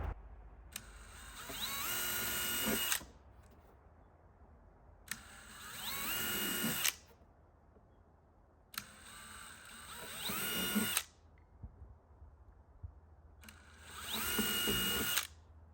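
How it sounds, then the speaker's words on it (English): A power drill with a 7/64 inch bit pre-drilling screw holes, four separate whirring bursts of about two seconds each with quiet gaps between, close and alone. "we're going to pre-drill holes for each of the 4 locations"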